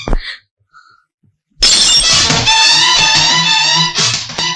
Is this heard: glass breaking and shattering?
yes